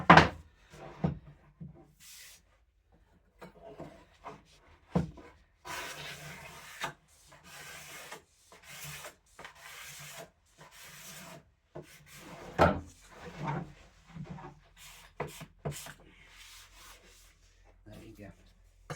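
Card scraper drawn across wood on a workbench, a series of short, dry rasping scrapes in irregular bursts with quiet pauses between, close and moderately loud, no speech.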